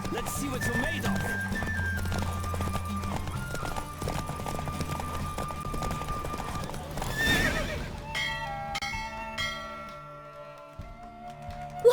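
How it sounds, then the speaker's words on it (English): Galloping horse hooves and neighing from The Witcher 3 during a fast race, with clip-clop rhythm under steady game music and ringing tones, loud and close, fading toward the end. "Don't spare the horse!"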